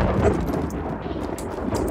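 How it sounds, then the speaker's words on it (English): Thunder rumbles in the video game Hunt: Showdown, a low, heavy roll sustained for a couple of seconds with faint crackles over it. "That thunder made me shit myself."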